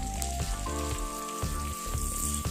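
Two large onions, sliced and frying in butter in a pan, give a soft continuous sizzle with light crackling, heard alone over a steady low background tone.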